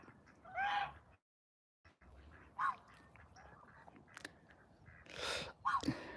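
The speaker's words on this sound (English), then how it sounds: "And then Sushi, just a smidge smaller than the two adult Chinese geese right here." Loud honking calls from Chinese geese come in a few separate bursts, with a short silence early on and low background noise throughout.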